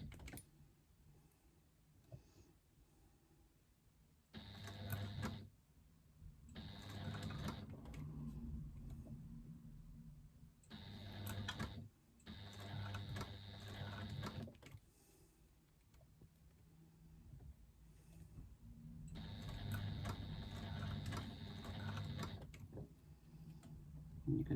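A sewing machine stitches a narrow 1/8-inch seam allowance in short bursts, its quiet whirring runs starting and stopping several times with pauses between.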